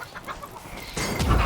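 In the medieval combat game Chivalry 2, a flaming chicken used as a weapon gives off rapid clucking amid busy battle noise, growing louder and denser toward the end.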